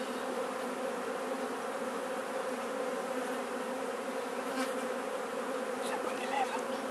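Honeybees buzz steadily around an urban beehive, a dense, even drone close to the microphone with no talk.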